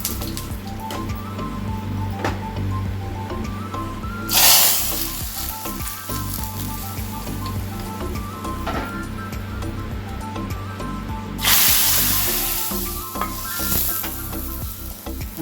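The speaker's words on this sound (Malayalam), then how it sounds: "കുറച്ച് ഉഴുന്നുപരിപ്പ്, 2-3 വറ്റൽമുളക്, കുറച്ച് കരിവേപ്പില, ഇതെല്ലാം കൂടെ ഒന്ന് മൂപ്പിച്ചിട്ട്" Urad dal, dried red chillies and curry leaves fry in hot oil, hissing steadily with crackles and stirring scrapes, and bursts of louder sizzling come twice as more goes into the pan.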